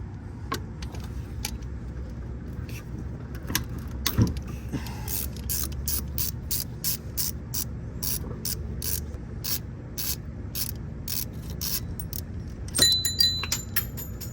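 A ratchet removing a 14 mm bolt on the 3.5 engine of a 2008 Toyota Highlander during water pump replacement, with a long run of quick, evenly spaced clicks, close and distinct, and a clatter near the end.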